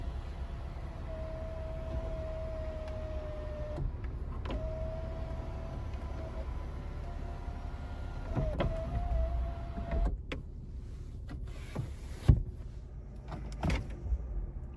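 Electric sunroof motor on a 2020 Lexus RC350 F Sport tilting and sliding, a steady whirring hum running in several separate strokes with short pauses between them, followed by soft clicks and thumps inside the quiet cabin.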